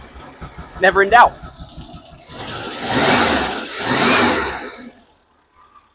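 Classic rally car on a battery booster, engine cranked and firing: a brief spoken line, then two loud, sustained bursts of engine noise that stop abruptly.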